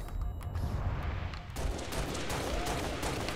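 Gunfire crackles in a shooter video game, a flurry of rapid sharp shots at moderate distance, thickening into sustained bursts after a short lull.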